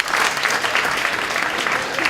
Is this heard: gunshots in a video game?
no